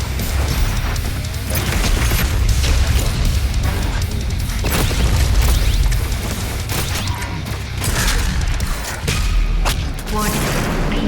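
The BFG 10,000 weapon fires in a Doom video game: loud, sustained booming and crashing blasts roll over one another through the whole stretch, with a voice talking beneath the barrage.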